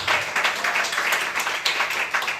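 Church congregation applauding during a worship service, a sustained, lively round of clapping heard on its own.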